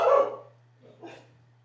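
A pet dog barks once loudly and close indoors, then gives a softer, shorter second bark after a brief pause, over a faint steady hum.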